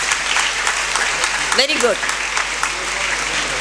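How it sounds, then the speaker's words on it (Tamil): School audience at an annual day function in Madurai clapping for their teachers: sustained, even applause from a large crowd, with a short spoken remark heard through it midway. "ஒரு கைத்தட்டு கொடுக்கலாமே"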